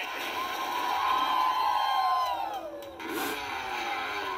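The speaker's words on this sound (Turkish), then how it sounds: "insanlar iyi bağırıyor" Crowd shouting and cheering in a mobile game played on an iPhone 4, a dense sustained roar with rising whoops and a swooping tone, fairly loud and steady throughout.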